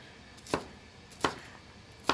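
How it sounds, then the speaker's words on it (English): A knife chops zucchini on a cutting board in three sharp, separate strokes spaced well apart, close and clear over a quiet kitchen background. "I'm going to cut up some zucchini next."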